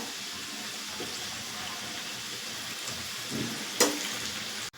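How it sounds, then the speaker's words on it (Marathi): Medu vada made from urad dal fry in hot oil with a soft, steady sizzle, a brief clatter as a piece is turned over, and a sharp knock right at the end, all faint with no talking. "असे मी दोन्ही बाजूनी बघा चांगले तळून घेतले"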